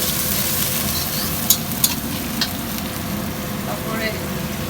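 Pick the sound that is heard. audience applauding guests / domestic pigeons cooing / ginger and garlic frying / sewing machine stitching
ginger and garlic frying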